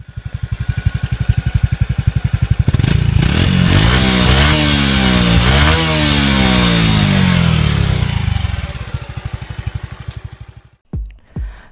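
The Honda Wave 110i, a 109.5cc single-cylinder four-stroke fuel-injected motorcycle, idles with a steady close putter, then revs up and down several times in rising and falling sweeps before settling and cutting off.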